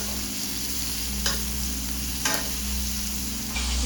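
Hot butter basted over a steak in a pan gives a steady close sizzle, with a few brief clinks or scrapes standing out above the continuous frying hiss.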